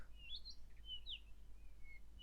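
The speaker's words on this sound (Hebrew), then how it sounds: "נשמע ציפורים מצייצות" Faint, distant birds give a few thin, high chirps over a steady low hum in a quiet setting.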